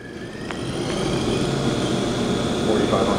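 A 2004 Haas VF2 CNC vertical mill spindle spinning up, a steady rising whine over broad machine roar, loud and close, with faint high tones climbing.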